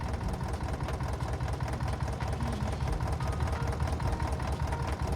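In a video game, the engine of a manual forklift idles with a continuous low, rumbling drone that holds steady throughout.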